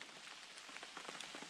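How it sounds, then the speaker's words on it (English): Rain falls steadily on a trailside campsite in the mountains on a dark morning, a soft continuous patter of drops with scattered brighter taps, faint and without voices. "It's a rainy, dark morning here"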